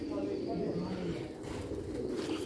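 Sialkoti pigeons coo in low, throaty, rolling tones close by over a steady background hum.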